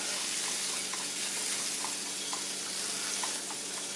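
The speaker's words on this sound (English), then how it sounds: "the pan's hot. I'm gonna put the butter in." Butter melts in a hot crepe pan with a faint, even sizzling hiss that holds steady throughout, with a few soft bubbling pops.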